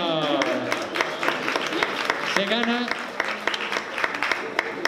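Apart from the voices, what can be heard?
audience applause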